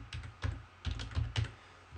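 Keys clatter on a computer keyboard while a hostname command is entered on a network switch or router, with several short bursts of close, crisp keystrokes separated by brief pauses.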